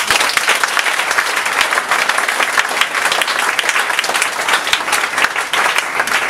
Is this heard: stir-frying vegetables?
no